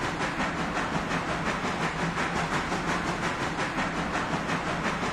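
A steam locomotive working hard uphill on a hill test, giving a loud, steady rush of chuffing exhaust and rolling rail noise with a faint rhythmic pulse, close and continuous with no talk.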